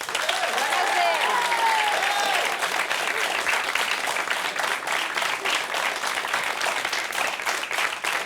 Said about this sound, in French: Merci de continuer à applaudir à Massa Biantona, a me Patrizia Cadacega.